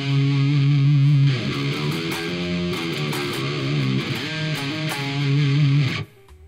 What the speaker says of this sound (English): Without the whammy, it will sound like this.